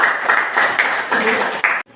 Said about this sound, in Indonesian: Tepuk tangan untuk Mbak Im.